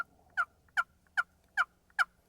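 Soft, muffled turkey tree calls from a box call, five short yelps in an even rhythm, fairly quiet over a low background hum.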